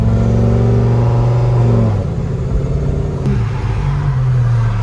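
A 1200 HP twin-turbo Lamborghini Huracan running on ethanol fuel, revving hard up close with a loud, buzzing engine note that climbs and then drops sharply, then settles into a rough, lower idle-like drone.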